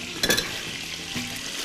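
Meat frying in a mix of butter and oil, a dense, steady sizzle close up with a brief louder crackle or stir early on and no talk.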